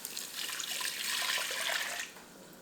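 Two cups of water pour into a pot of cooked onions and tomato paste for plant-based sloppy joes, a steady splashing rush for about two seconds that then drops away.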